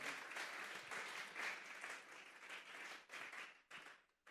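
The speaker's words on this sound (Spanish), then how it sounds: "Dele una ofrenda de palmas a Dios en esta tarde." A church congregation applauds together during a Spanish-language service, a steady wash of many hands clapping close and loud that swells, dips and finally breaks off near the end, with no talking.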